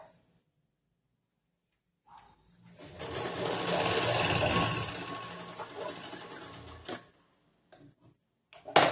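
A sewing machine stitches a plain blouse in a steady, close run of about four seconds, then stops with a few short clicks and handling noises.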